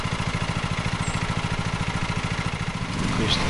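Lawn mower engine idling steadily in Lawn Mowing Simulator, a low, even pulsing chug that holds through, swelling slightly near the end.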